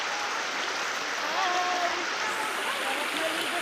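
Steady rushing water of a river hisses continuously, like a flowing stream heard up close, with faint voices mixed in.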